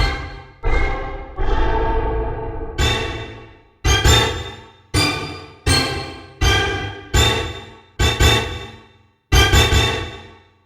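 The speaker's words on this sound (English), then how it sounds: "And of course, the orchestra hit." A synthesizer orchestra hit patch struck about ten times in an uneven rhythm, each loud, bright stab decaying quickly before the next, with no voices.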